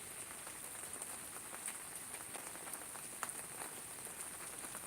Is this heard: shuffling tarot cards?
no